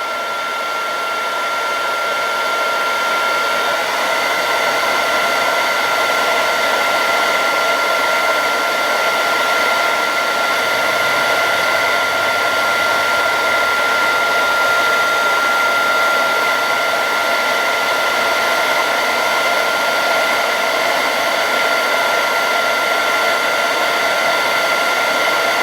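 A heat gun running continuously while heating HDPE plastic during a Triumph boat repair, a steady loud whirring blower drone with a whiny tonal hum that holds level for the whole stretch, no talking.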